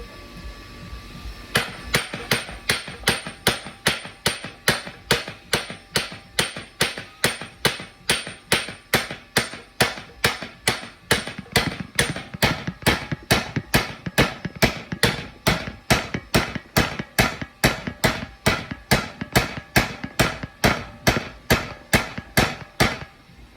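Steady, forceful hammer blows driving a drive shaft part onto a Ford 8.8 axle, dozens of sharp metallic strikes at an even, rapid rhythm, close and loud with no talking.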